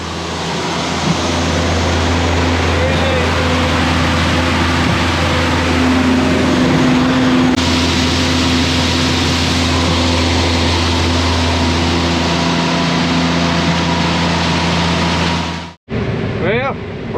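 A combine harvester engine drones steadily during an Illinois corn harvest, a loud, close, constant mechanical hum that runs unbroken for most of the stretch before cutting off abruptly near the end.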